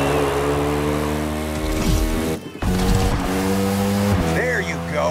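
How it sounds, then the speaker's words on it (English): A Ducati Panigale motorcycle engine in the racing game The Crew Motorfest revs loud and close, its pitch climbing and dropping through gear changes, with a short gap partway through. "Now riding a Ducati Panigale"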